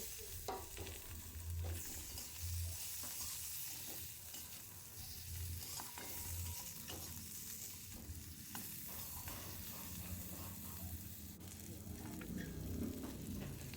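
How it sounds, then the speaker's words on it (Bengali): Chopped onion and tomato frying in oil for a Bengali katla fish head mung-masoor dal, a steady close sizzle with stirring scrapes throughout, no talking. "পেঁয়াজটা একটু লাল মতো ভাজা হয়ে গেলে আমি দিয়ে দেবো কুচানো টমেটো।"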